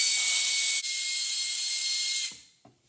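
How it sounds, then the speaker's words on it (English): A pneumatic brake bleeder draws DSG transmission oil out of a 2014 VW Passat TDI, giving a steady, close, high-pitched air hiss that cuts off abruptly, followed by a couple of faint clicks. "I've got my pneumatic brake bleeder, and we're just going to drop the hose down in here and suck everything out"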